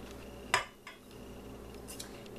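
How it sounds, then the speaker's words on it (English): Sugars and spices being mixed in a bowl for a pumpkin pie, one sharp clink of a utensil against the bowl followed by faint scraping, quiet and close, with no voices. "in our bowl with our sugars, we'll add our spices. And we're going to mix that up a little bit"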